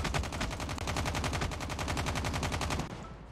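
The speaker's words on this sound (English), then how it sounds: "I'm gonna try to kill you with this regular gun" Rapid automatic gunfire from a standard gun in COD Mobile, a fast even burst of shots close and loud for nearly three seconds before cutting off, nothing else over it.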